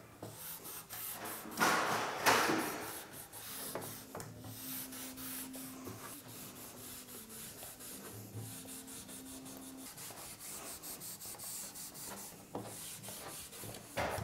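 Rubbing and wiping sounds as a finish coat is applied to wood and the excess wiped off, with a louder scrubbing burst early on and then steady soft rubbing strokes that continue to the end.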